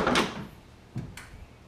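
The door of a 1969 Oldsmobile Cutlass 442 muscle car opens and shuts, giving a close, hard thud first, then two shorter knocks a second later.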